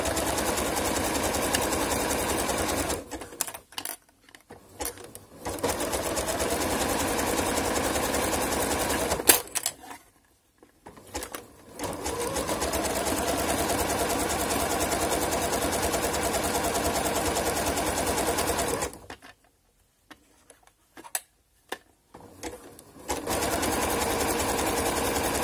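A sewing machine runs a zigzag stitch across laminette (laminated fabric) in three steady bursts of whirring, separated by brief pauses, close and alone.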